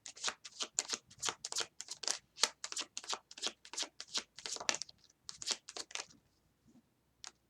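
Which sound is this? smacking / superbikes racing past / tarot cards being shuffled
tarot cards being shuffled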